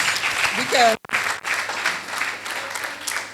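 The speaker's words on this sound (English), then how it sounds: "Can we give her a round of applause?" A crowd claps in a short burst of applause, dense and steady, briefly cut off before continuing more softly.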